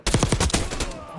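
AK-47 automatic fire in Black Ops 6, a rapid burst of about eight loud, close shots in quick rhythm followed by a short ringing tail.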